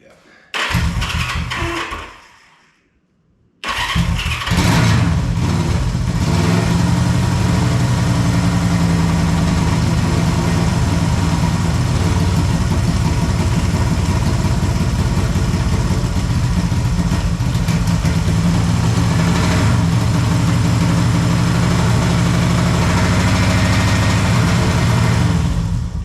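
A 1974 Honda CB360 motorcycle that sat in storage cranks briefly, goes quiet, then fires and settles into a loud, steady, slightly uneven idle close by, with a person talking over it.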